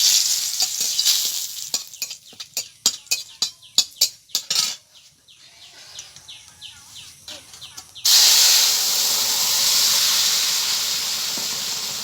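A bay leaf dropped into hot mustard oil with cumin, first a run of sharp stirring or tapping knocks, then a sudden loud, sustained sizzle and hiss close by.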